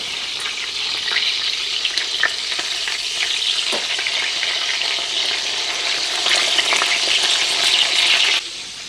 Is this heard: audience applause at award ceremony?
no